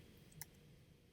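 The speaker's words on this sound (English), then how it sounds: "Once you click, do not click and drag. Just click." A computer mouse clicks twice, in quiet isolation: one soft click near the start and a sharper one at the end.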